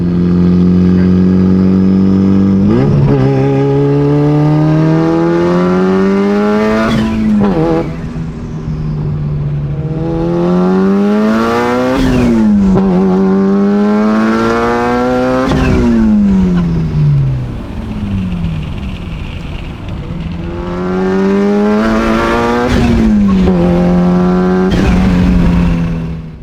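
An R32 Skyline GTR accelerates hard at full throttle, the engine climbing through its revs with a loud rising whine several times over, each pull cut by a gear change.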